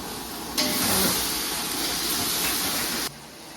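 Green chilies and small tomatoes drop into hot oil in a pan and sizzle loudly, a steady bright hiss that starts suddenly, holds for a few seconds, then cuts back to a quieter background.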